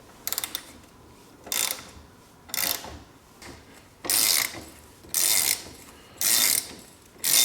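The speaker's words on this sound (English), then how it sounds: "you're going to want a long-handled ratchet for this because these are usually pretty tight" A long-handled ratchet works loose a tight top mount bolt on the front shock of a Honda Fourtrax 300 ATV, producing repeated close clicking ratchet strokes in a steady rhythm of about seven bursts, with no talking.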